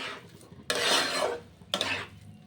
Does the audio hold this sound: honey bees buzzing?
no